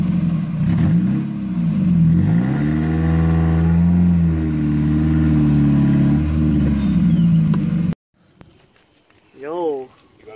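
A Mazda Miata engine revs up and down in several rising and falling sweeps, loud and close, then cuts off abruptly; afterward a voice speaks briefly.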